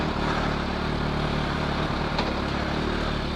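A Kawasaki H2 motorcycle engine runs steadily up close, a dense continuous mechanical roar with no clear revving changes, with no voices.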